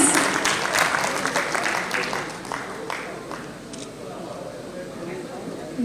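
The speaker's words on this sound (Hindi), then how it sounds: "जोरदार ताली हो जाए everyone. Make some noise." A stand-up comedy audience at a Valentine's Day show claps loudly for comedian Sunil Pal. The applause is strongest for the first few seconds, then thins and fades, with crowd murmur underneath.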